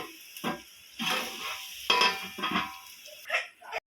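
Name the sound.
onions frying and being stirred in a pan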